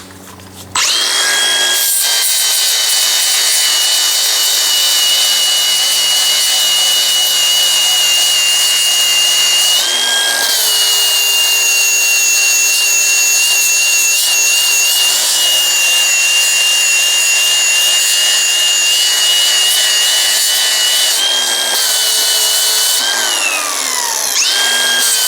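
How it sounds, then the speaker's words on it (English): A grinder working on a laser-welded brass weld, giving a loud, steady high-pitched whine that runs continuously, with brief pitch dips as pressure shifts. "And once again, I'm gonna grind it."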